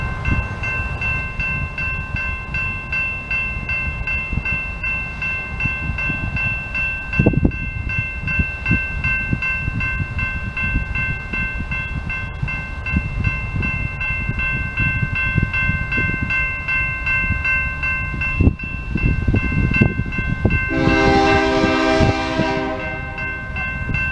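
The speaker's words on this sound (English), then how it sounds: "That was what, 3 trains within 20 minutes?" Trains pass at Fostoria with a steady, loud rolling rumble and rhythmic wheel clatter, then a sustained horn blast rings out near the end.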